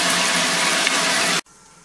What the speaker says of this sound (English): 3/4 filling the stock pot in the fucking shower.